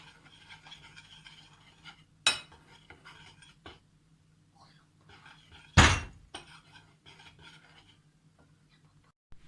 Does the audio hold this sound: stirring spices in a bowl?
yes